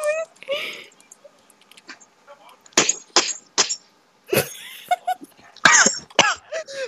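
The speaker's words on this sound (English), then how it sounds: "Oh, now he's choking!" A person coughs in a rough, choking fit of several hacking bursts with throat-clearing, loud and close, while other people talk around the coughs.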